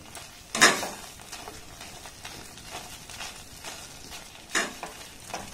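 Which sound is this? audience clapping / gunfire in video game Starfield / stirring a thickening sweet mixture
stirring a thickening sweet mixture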